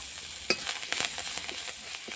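Lauki raita ingredients being stirred in a kadhai, giving soft, faint scraping and clinking strokes with a few sharper taps, with no talking.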